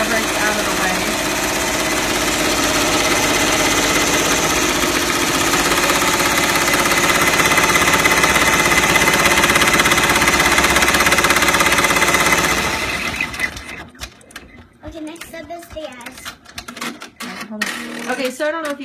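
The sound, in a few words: embroidery machine stitching applique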